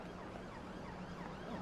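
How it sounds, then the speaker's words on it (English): A steady wailing London-style siren in Train Sim World 5 fills the clip, continuous and fairly prominent, with no talking over it. "Oh, nice. Sirens."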